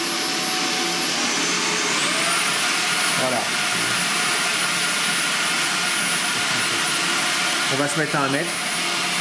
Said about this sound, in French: on va faire un petit comparatif de bruit entre différents aspirateurs de même nature au mode maximum